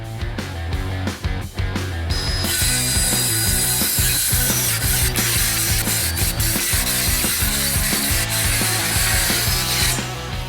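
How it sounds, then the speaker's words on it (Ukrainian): An APRO 20CS cordless circular saw bites into a 50 mm wooden board with a loud, continuous grinding rasp, steady and close throughout, with a few sharp clacks early on. "Циркулярна пила 20CS, сна товщиною 50 мм"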